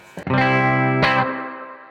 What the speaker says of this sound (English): okay, maybe that's the reverb I like. When I switch to the drive channel, it will be a different reverb essentially